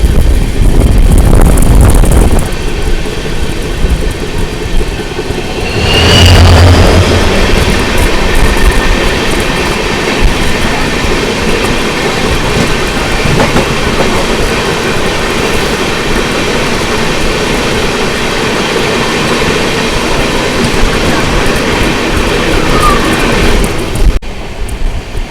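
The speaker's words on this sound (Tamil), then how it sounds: "ஸோ உங்கள் ஆப்போசிட்டில் ட்ரெயின் வருது பார்த்தீங்களா" A passenger train on the Talaguppa line in Karnataka rolls past steadily on the opposite track for most of the clip, a loud, continuous rumble of wheels and carriages near at hand with faint clickety-clack and brief squeals.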